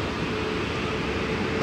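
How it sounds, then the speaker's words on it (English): A continuous loud rumbling roar of a train arriving at a station platform close by, broad and steady throughout with no voices. "That's a train now arriving on platform number one"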